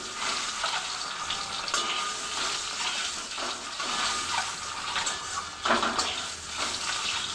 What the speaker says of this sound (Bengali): আমার ডিমটা ভাজাও হয়ে যাচ্ছে।